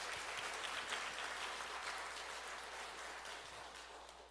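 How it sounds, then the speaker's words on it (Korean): A church congregation claps steadily in dense, sustained applause during a worship service, slowly fading a little. "다시 한번 영광의 박수를 하나님께 올려드립시다"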